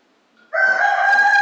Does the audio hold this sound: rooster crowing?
yes